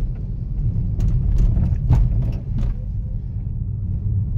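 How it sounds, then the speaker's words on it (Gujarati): A 2020 Hyundai Aura 1.2 SX petrol with sequential CNG rolls over a speed breaker, giving a low body rumble with a few soft thumps and rattles from the suspension as the wheels cross, under a steady cabin drone. "હજી એકવાર આપણે સ્પીડ બ્રેકર ઉપર દેખાડી દઉં."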